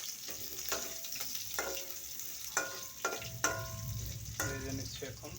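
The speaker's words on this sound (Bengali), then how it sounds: "ভেজে নিচ্ছি এখন।" Onion and green chilies fry in oil for a dried fish curry, a steady close sizzle broken by several sharp clatters of a spatula stirring against the pan, with no talking.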